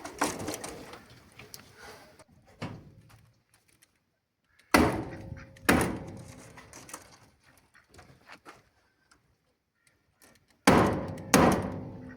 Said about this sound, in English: use it like a hammer to hammer the staples in